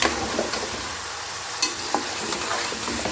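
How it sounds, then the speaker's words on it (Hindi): Beef sizzles as it is stirred in ghee with onions for nihari, a steady close frying hiss broken by a few sharp scraping clicks of the spoon against the pan. "अच्छे से इसको ज़रा इसी घी में और प्याज में भून लेना है।"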